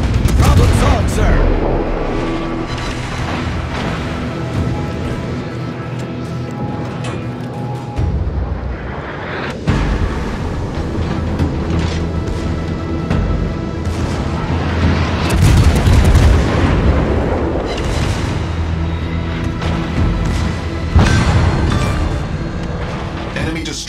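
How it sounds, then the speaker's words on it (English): A destroyer blows up in a naval battle, with loud repeated booms and rumbling blasts layered over gunfire and battle noise, continuous and close for the whole stretch. "Destroyer blown up."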